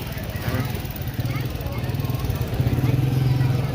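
Motorcycle engines idle and rumble as riders pull into the Lahore Lari Adda pigeon market, a steady low mechanical drone amid crowd babble and nearby chatter.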